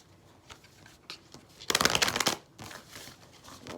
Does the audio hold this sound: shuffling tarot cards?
yes